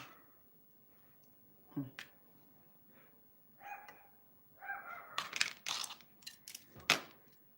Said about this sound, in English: Hey, my annoying dog.